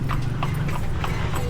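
Horse hooves clip-clop at a steady walking pace on a street in Intramuros, Manila, clear and fairly close, with a low rumble of surroundings underneath.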